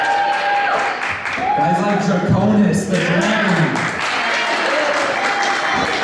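Loud applause and cheering fill a wrestling crowd at a live indie show, sustained clapping throughout with someone speaking over the noise.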